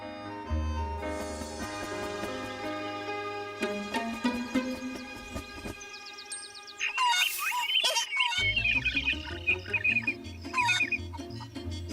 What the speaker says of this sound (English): Birds occasionally sing the whole day long.